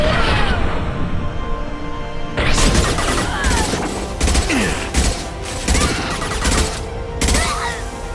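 Concussive shot and heavy combat fire in Mass Effect 2 Legendary Edition on Insanity difficulty, a loud blast followed by repeated booming volleys and crashes, with voices under the action.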